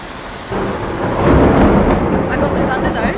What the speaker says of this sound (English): I got the thunder though.